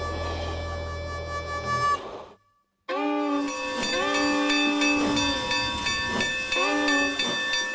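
Steam locomotive 261 venting a loud, steady hiss of steam, broken by a short silent gap, then resuming with a whistle-like tonal roar that carries on continuously.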